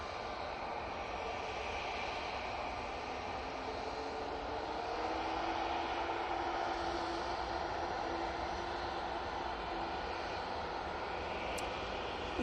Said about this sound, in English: 737. It's coming in from Dublin.